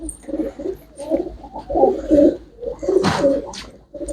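Pigeons coo in repeated low, throaty bursts, fairly close and steady throughout, with a brief sharper flutter or rustle midway and no talking.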